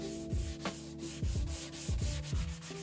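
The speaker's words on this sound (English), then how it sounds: "I'm also going to give it a quick once over with the sanding sponge" A sanding sponge rubs the wood of a mid-century sideboard in five or six close, rhythmic strokes, each a short scratchy swish over a faint hum.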